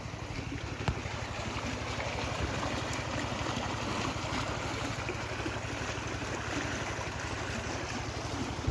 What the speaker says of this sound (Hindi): ये कैनल में पानी फुल आ रहा है अभी बारिश की वजह से।